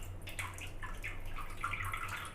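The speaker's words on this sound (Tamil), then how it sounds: "இது நல்லா வடிகட்டிக்குங்க." Water dripping and trickling as boiled ragi vermicelli is drained for upma, soft irregular splashes and patters over a low steady hum, faint and close.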